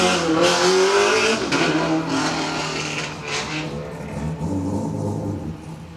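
A 2015 Subaru WRX STI launches up the first straight at a lakeside hillclimb, its engine revving hard and loud up close, with a brief tyre squeal, then the roar gradually eases as the car pulls away.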